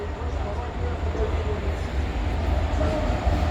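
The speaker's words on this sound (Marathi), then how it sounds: "ट्रेन आलेली आहे" A passenger train rolls into Satara railway station with a steady low rumble of wheels and carriages, continuous and fairly close, over platform ambience.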